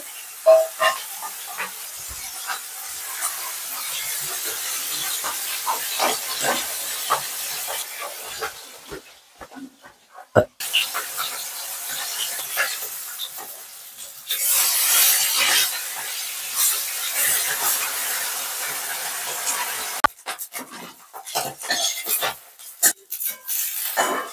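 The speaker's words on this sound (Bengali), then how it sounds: "তো পেটিগুলো ভেজে নিচ্ছি।" Bhetki fish pieces fry in a pan of oil with a steady hiss and sizzle that crackles and pops, broken by short quiet gaps when the pan is stirred or moved.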